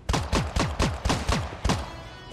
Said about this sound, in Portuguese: Nossa, tiraço aqui em cima.